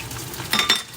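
A cornstarch and water slurry being stirred with a utensil in a small dish for sesame chicken sauce, giving soft scraping and a couple of light clinks against the dish, close up and brief.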